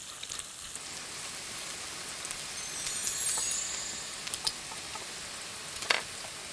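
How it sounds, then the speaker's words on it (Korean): Tuna pancake frying in a pan, a soft steady sizzle with faint crackles and a few light pops, close and quiet, with no voices. "참치전도 구워줄게요. 눌러가면서 모양 잡아주고요."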